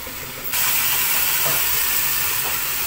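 Capsicum hitting a hot pan, a sudden loud, steady hiss and sizzle that starts after a brief quieter moment and holds close up, with no talking.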